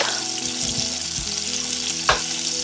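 Cajun shrimp fry in a hot pan with a steady, bright sizzle throughout, a few low knocks as pieces shift, and one sharp clack near the end, no voices.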